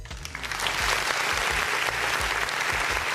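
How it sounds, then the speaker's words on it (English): Loud, close audience applause at the end of a talk show honoring a guest, a dense wash of clapping with some low thumps underneath, continuous throughout. "clap it up for Dr. Umar Johnson"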